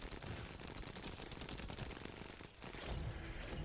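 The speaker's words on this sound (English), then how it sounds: "Terrible gunfire" Rapid automatic gunfire from the video game The First Descendant, dense continuous bursts of shots that dip briefly before resuming just as loud.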